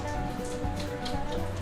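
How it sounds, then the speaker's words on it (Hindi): Heavy rain pours down at an old, deserted haveli, a steady close hiss of drops hitting surfaces with no pause and no speech. "बारिश हो गई है तेज़"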